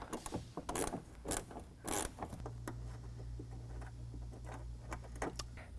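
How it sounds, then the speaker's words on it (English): A ratchet works a 10mm bolt out of the rear wheel well of a 2011 Jeep Grand Cherokee, giving quick close clicks and rubbing taps, several louder bursts early, then faint steady clicking over a low hum. "In front of the rear wheel, we've got a 10mm bolt. We're going to take that out."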